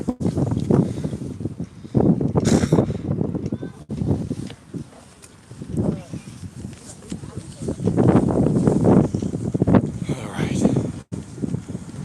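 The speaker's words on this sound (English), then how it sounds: "It's starting to get a little windy up here." Gusty outdoor wind buffeting the microphone on high ground, rising and falling in rough bursts beneath a person talking.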